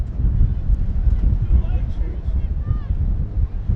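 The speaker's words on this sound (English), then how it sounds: "As the wind starts to gust again." Wind gusting across an outdoor girls' soccer field during a high school match, a loud, low buffeting rumble battering the microphone continuously, with faint voices underneath.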